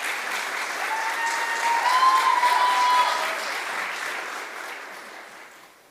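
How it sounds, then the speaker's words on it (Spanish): An audience applauds after a soprano solo of an Italian song at a church Bible seminar, steady clapping that swells and then fades out gradually. "Vamos a darle a Laura Le un fuerte aplauso"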